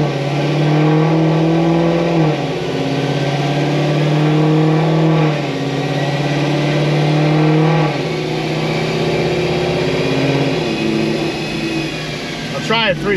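A Cadillac CTS-V with 55,000 miles and a rough-shifting transmission accelerates hard, its engine note climbing loudly and dropping at each of several gear changes, close and continuous.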